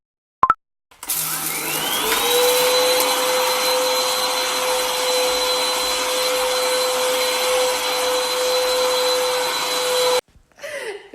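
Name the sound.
cordless vacuum cleaner running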